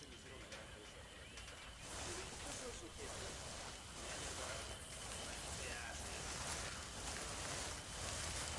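Rain falls in a video game, a broad steady hiss that swells slightly partway through, with voices talking at times over it.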